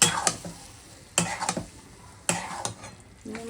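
Spiced roasted eggplant mash being sautéed and scraped around a pan, with three sharp bursts of stirring and a soft sizzle between them.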